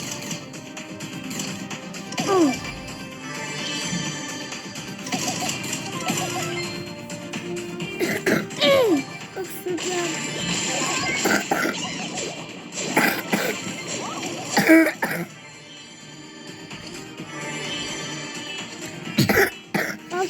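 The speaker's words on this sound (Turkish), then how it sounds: "Öksürüp durma ya." Several sharp coughs scattered through a busy, noisy stretch, fairly close and loud, mixed with clatter and brief vocal sounds.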